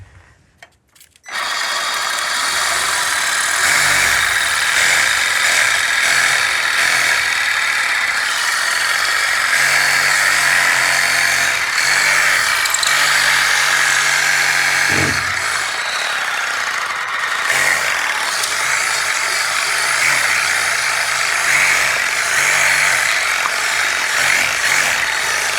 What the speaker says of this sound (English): So I said Sawzall, but this is actually a hacksaw.